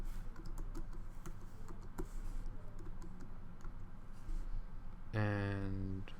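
Fingers tap out a password on a computer keyboard, a run of quick light key clicks over a low room hum, ending with a brief tonal chime.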